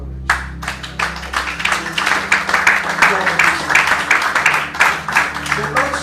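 Congregation applauding in a church, sustained dense clapping from many hands close by with a low hum underneath, a voice briefly audible at the start.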